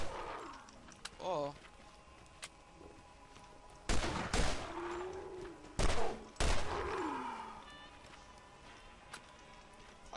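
Pistol fire in Borderlands: a few sharp, separated bursts of shots spaced several seconds apart amid game effects, with someone talking in between.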